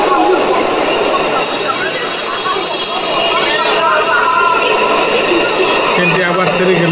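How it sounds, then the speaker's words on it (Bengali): Bullet train leaving a large, modern station between Guangzhou and Shenzhen, a loud rushing rail roar with high wheel hiss building and holding steady, while a person talks over it. "ট্রেনটি আবার ছেড়ে গেল"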